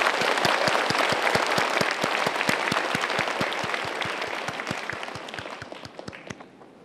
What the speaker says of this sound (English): Let's applause again.